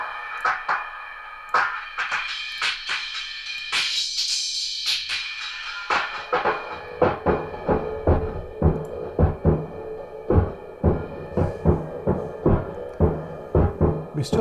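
Heavily saturated, gain-laden audio from a chain of successive bandpass filters in an Airwindows distortion plugin, a dense chugging stream of rhythmic hits with a smoother sustained stretch early on, loud and alone.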